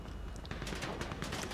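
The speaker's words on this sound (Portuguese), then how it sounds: "Eu vou dar uns tiros na porta pra ver se libera." Rapid bursts of gunfire crackle in GTA V as shots are fired at a van door, a fast, dense volley of moderately faint pops with no talking over it.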